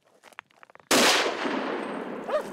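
A single sharp rifle shot fired during a deer hunt in the countryside, loud and close, with a long rolling echo that trails off after some faint rustling and footsteps.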